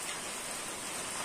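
Steady rain during the rainy season falls in a dense, even hiss that stays constant and fairly close for the whole stretch, with no voices or other sounds.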